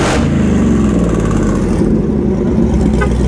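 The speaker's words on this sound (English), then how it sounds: "Rev it." A Dodge Challenger Hellcat with exhaust cutouts opened revs hard and close, a loud, continuous roaring engine note that holds strong throughout with a slight rise and fall.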